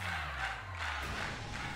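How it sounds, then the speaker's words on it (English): Loud crowd roar and cheering from a Pokemon Violet gym-battle concert event, a dense continuous wall of voices with a low rumble underneath, sustained throughout without pauses. "The crowd's so loud it could wake the dead."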